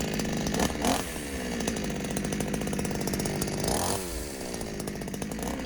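Overhauled Zenoah G5200 chainsaw running close by, a loud buzzing two-stroke drone with a couple of brief rises in revs before settling back.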